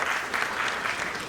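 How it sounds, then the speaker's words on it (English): Audience at a keynote address at a conference applauding the speaker as he takes the stage, a steady, dense wash of clapping throughout. "Let's have a huge round of applause for him"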